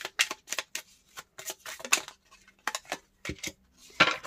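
Tarot cards shuffled and drawn by hand, a quick series of crisp riffling and slapping bursts close up, with brief pauses between them.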